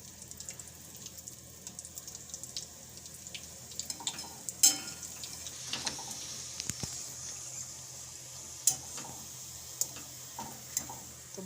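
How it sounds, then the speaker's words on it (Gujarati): Torn pieces of roti frying in hot ghee give a faint, low sizzle, punctuated by scattered light clicks and taps of a spatula against the pan. "તો બધી રોટલી આપણે આ કરી એ રીતે ઘીમાં આપણે આને સરસથી તળી લેવાની છે, શેકી લેવાની છે આ રીતે."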